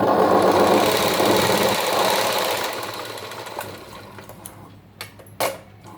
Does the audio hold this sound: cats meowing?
no